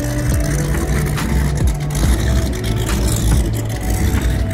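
A boat's engine runs loudly at Kemah with a rough, truck-like drone. It holds a steady, close, heavy rumble with throbbing low tones and no voices over it.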